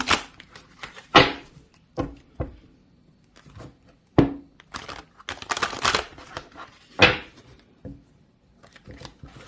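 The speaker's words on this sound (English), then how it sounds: "Just going to give it a little shuffle." A deck of Mermaid Tarot cards is shuffled by hand in separate bursts of riffling and slapping, close and crisp, with quiet pauses between them.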